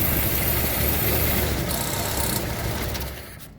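A 1954 Ford Popular 103E engine idles roughly with the choke pushed in. A steady mechanical drone runs with no talking, then thins and fades as the engine dies.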